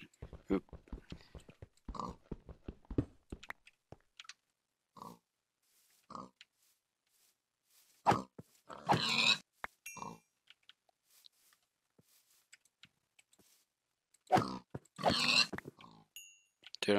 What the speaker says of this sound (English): I'm happy that the pigs don't attack me